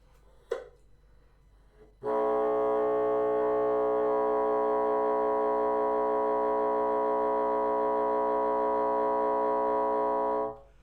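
A saxophone multiphonic on low C with the whisper key lock engaged, a steady buzzy chord held for about eight seconds after a brief click, over faint background hum, with no talk.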